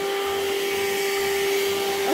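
A household vacuum cleaner runs continuously, a steady loud whine and airy roar with a constant hum, used on a person while a dog is nearby.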